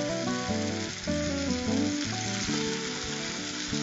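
Turmeric and chili powder frying in hot oil for a Tamil murukku kuzhambu, a loud, steady, close sizzle that continues throughout without any talk.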